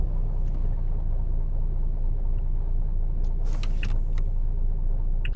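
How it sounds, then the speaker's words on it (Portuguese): Simulated engine drone of a nine-axle bi-train truck over 30 metres long, driven in Euro Truck Simulator 2 with a MAN Brazilian cab on the Eldorado map: a steady, loud low rumble running throughout, with a few brief higher clicks near the end. "eu tô dirigindo aí um bitrem com mais de 30 metros de comprimento, 9 eixos"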